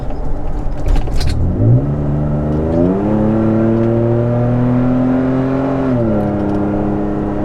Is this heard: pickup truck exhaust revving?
yes